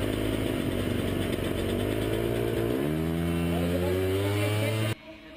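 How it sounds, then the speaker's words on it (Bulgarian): A motocross motorcycle at an extreme freestyle event revs loudly and close, its pitch climbing sharply midway before the sound cuts off abruptly near the end. "Като че ли угасна мотора на Детелин Данков?"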